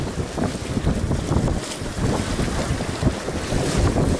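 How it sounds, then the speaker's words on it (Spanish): Strong crosswind gusting and buffeting the microphone beside water while spin fishing, a steady loud roar with broadband rumble and no voices. "Y eso que tengo el viento de lado"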